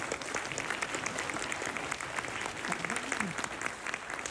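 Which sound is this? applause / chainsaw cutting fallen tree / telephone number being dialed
applause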